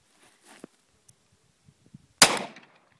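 Magnum handgun gunshot at an outdoor shooting range: one sharp, loud report with a short decaying tail, preceded by faint small knocks and handling noises.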